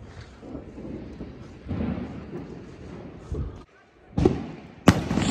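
Big New Year's Eve fireworks bangs outdoors in the Netherlands, a steady crackling rumble with several louder booms, the sharpest ones near the end, one standing out at close range.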